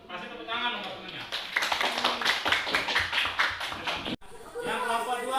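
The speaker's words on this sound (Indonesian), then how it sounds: "Kasih tepuk tangan untuk temennya" Schoolchildren in a classroom clap for their classmates in a burst of quick, uneven handclaps lasting several seconds, with chatter and a teacher's voice around it.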